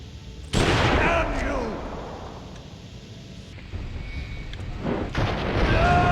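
Loud, close gunfire from a video game, with sharp blasts and rolling booms in a couple of bursts, and a player's voice talking over it.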